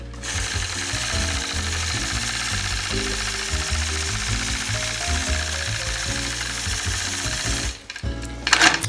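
A quilting machine stitches a ruler-guided crosshatch line, a loud, fast, steady mechanical chatter running for almost eight seconds before stopping, followed by a few clicks and handling noises.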